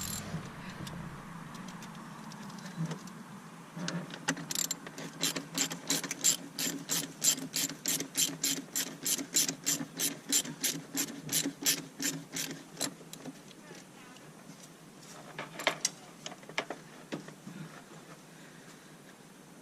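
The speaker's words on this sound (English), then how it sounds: "This hose clamp is actually a 7mm," A ratchet wrench loosening a 7mm hose clamp on an S&B cold air intake for a 2003–2007 5.9 Cummins, a long run of rapid, even clicks up close, then a few scattered clicks.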